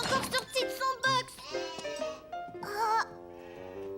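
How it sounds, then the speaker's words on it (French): Small cartoon sheep bleating: several short, wavering bleats in quick succession, clear and close, with brief gaps between them. "Ce mouton était beaucoup plus petit que les autres."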